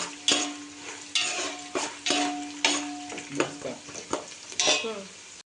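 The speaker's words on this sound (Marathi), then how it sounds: "हे सर्व जेव्हा आपण लाल लाल होईपर्यंत भाजूया" Bhadang ingredients being roasted in a pan until red: steady sizzling and frying under a series of scraping stir strokes, close and fairly loud, with no voices.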